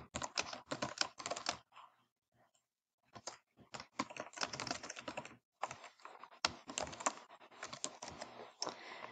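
Bursts of quick keystrokes on a computer keyboard, clustered clicks separated by short pauses, close and clear with no talk.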